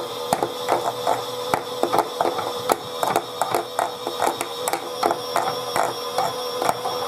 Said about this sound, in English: I've never seen this machine spin like this though.